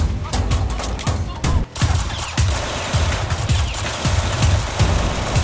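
Rapid automatic gunfire from a switch-modded pistol rattles out in dense, repeated bursts during a Roblox hood shooter set in the Bronx, loud and close throughout, with a brief gap partway through.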